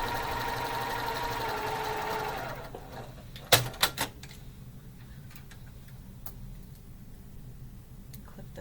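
A sewing machine stitching quilt pieces for a patriotic block runs with a steady whirring hum for about two and a half seconds, then stops, followed by a few sharp mechanical clicks and quiet.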